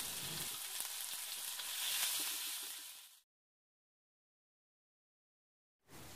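Chopped onion frying in oil with curry leaves, a steady close sizzle and hiss with light stirring for about three seconds, then silence until a brief return of sizzling at the end.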